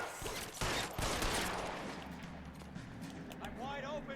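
Gunfire erupts in the video game L.A. Noire: a few sharp shots ring out near the start, then a rumbling, echoing firefight continues under a voice talking.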